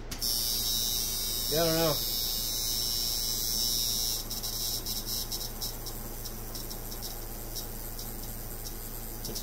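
A tattoo machine gives a steady high electric buzz against a low mains-like hum, with a person speaking briefly early on before the buzzing carries on alone, close and constant.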